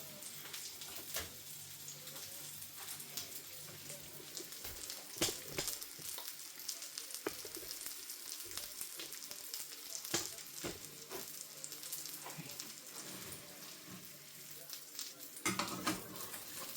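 Chicken kievs fry in a pan as their breadcrumb coating browns, giving a steady close sizzle with scattered clinks and stirring scrapes, no voices.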